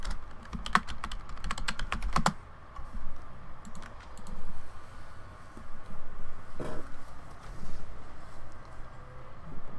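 Clacky computer keyboard typed on fast in bursts, dense close key clicks clustered early and again midway, with a quieter background hum between the flurries.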